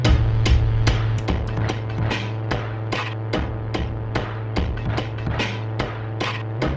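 A crunchy, saturated drum pattern from an OP-1 Field runs through a Herbs and Stones Three Stems saturation pedal, with punchy distorted hits repeating in a driving rhythm over a sustained low tone.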